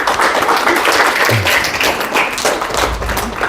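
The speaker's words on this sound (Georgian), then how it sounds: "მოდი ტაში დაუკრათ" An audience claps at a meeting held in a private school in Tbilisi, a dense, loud burst of applause that continues for the few seconds without pause.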